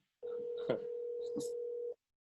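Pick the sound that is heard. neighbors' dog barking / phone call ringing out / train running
phone call ringing out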